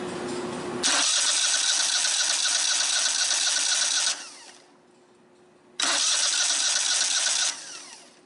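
Kohler Command twin small engine being turned over, two long loud bursts of steady cranking whir separated by a short pause, close and alone with no talk.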